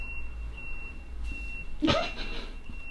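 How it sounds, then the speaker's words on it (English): A thin, steady high beep rings faintly from a distance under a low road-traffic hum, heard from a university dorm room, with a brief louder vehicle swish near the middle. "you hear the beeping?"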